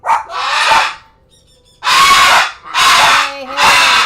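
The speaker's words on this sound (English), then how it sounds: "She upset at him barking?" A dog barks in loud, harsh bursts close by, about four long bark-like outbursts separated by a brief pause, in a home setting.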